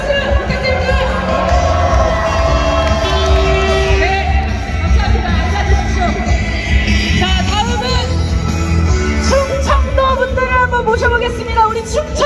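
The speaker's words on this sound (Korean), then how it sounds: "큰 박수 부탁드립니다." A large crowd at a nationwide candlelight rally near Sungnyemun gate in Seoul roars continuously, with cheering, shouts and whoops over a dense wash of clapping, loud and sustained for the whole stretch, with voices mixed in.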